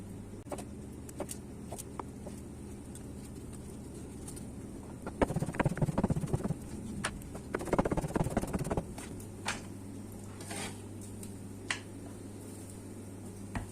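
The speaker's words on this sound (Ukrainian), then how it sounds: "Беремо пів огірка, нарізаємо його на слайси." Half a cucumber is sliced with a knife while making an alfalfa sprout salad, giving a run of close, crisp cuts that cluster in two short bursts over a steady low background hum.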